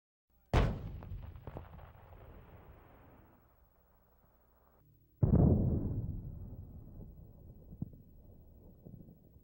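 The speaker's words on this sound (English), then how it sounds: "we'll show you what would happen if the just 10 pounds of explosives being stored here detonated" Ten pounds of explosives detonate inside a wooden storage building with a sharp, loud blast that rolls off into a long fading rumble, followed a few seconds later by a second heavy boom with debris clatter and a decaying tail.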